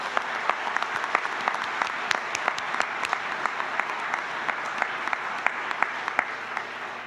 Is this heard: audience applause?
yes